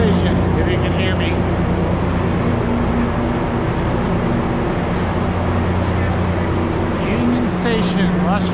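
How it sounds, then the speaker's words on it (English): Steady rumble of Union Station in Washington, D.C., with low mechanical hum, distant traffic-like drone and faint indistinct voices throughout. "And we are at the train station,"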